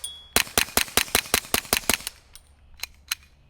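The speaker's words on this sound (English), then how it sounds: "Let's shoot it a little bit faster and see if we notice any blowback coming to my face." Rapid string of about ten sharp gunshots from a Retay RXP22 .22 pistol, fired quickly and evenly over two seconds, followed by a few more spaced shots, loud and close with no talking.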